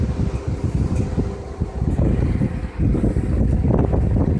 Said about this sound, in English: you can hear them bearings and that fan grinding